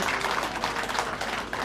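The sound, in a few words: audience applauding to welcome guests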